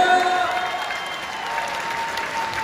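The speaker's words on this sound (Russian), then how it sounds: "Давайте продолжаем аплодисментами" Audience applause fills an award ceremony hall at the Song of the Year show, a steady dense clapping wash that holds evenly throughout, with a faint sustained tone underneath.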